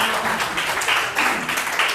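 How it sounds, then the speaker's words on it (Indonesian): Classroom of students clapping as a group presentation begins, a fairly loud, uneven burst of hand claps with a bit of voice underneath. "Tepuk tangan. Yuk, beri apresiasi."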